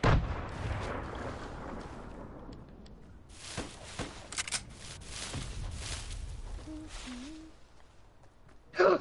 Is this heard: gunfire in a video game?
yes